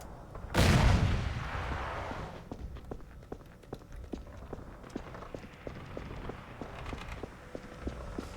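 Gunfire in the first-person shooter E.Y.E.: Divine Cybermancy, a loud burst followed by a rapid train of fainter repeated shots and impacts over game ambience.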